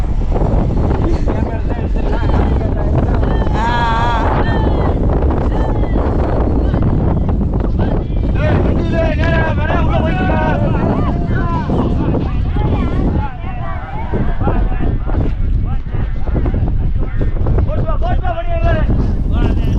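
Strong wind buffets the microphone while a boat's engine drones and water rushes past at sea off Dhanushkodi, India, with people talking loudly over the noise.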